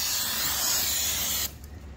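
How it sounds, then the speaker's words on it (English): Brake cleaner sprayed onto the front brake rotors of a 2015-2020 Chevy/GMC Yukon, Tahoe, Suburban or Escalade: a loud, steady aerosol hiss close up for about one and a half seconds, then cutting off abruptly to quiet. "we're gonna go ahead and spray it all down here with some brake cleaner on both"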